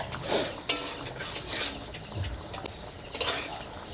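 Raw rice being stir-fried and toasted in a pot for a winter-vegetable dal and basanti pulao meal, with close scraping and stirring clatter, a few sharp utensil knocks against the metal, and no talk.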